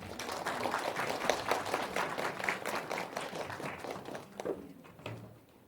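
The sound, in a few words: audience applause at a seminar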